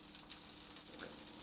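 Chicken breasts frying three at a time in a pan for creamy garlic and white wine chicken, giving a faint, steady sizzle with soft crackles and no talking.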